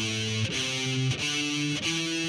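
Heavy metal electric guitar with distortion plays a riff spanning two octaves: three sustained notes that step upward, each clearly separated, loud and alone.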